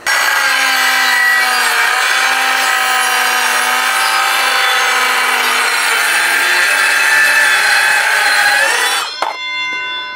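A cordless power saw cuts through wood for about nine seconds, a loud steady buzzing whine with shifting pitch, then stops abruptly, leaving a few brief clatters.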